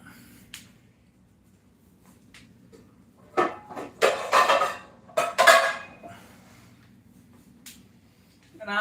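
A nonstick pan is shifted and knocked against a stove burner set to medium heat, giving a few clustered metallic clanks and scrapes over a quiet background.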